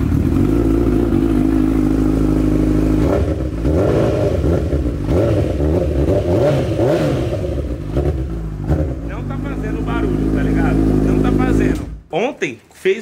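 A Honda CB1000 motorcycle engine with a knocking fault rumbles at idle, then revs up and down several times with a throaty mechanical clatter, close by, and cuts off near the end.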